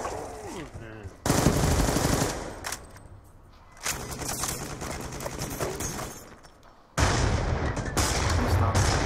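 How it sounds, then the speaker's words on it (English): Video game combat with rapid bursts of automatic gunfire and explosive booms, loud and close, broken by brief quieter gaps, with a player's voice faintly underneath. "He's gonna try to chuck his nade at me."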